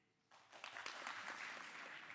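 A lecture-hall audience answers a show-of-hands vote with applause that starts suddenly after a near-silent moment and swells into steady clapping from many people.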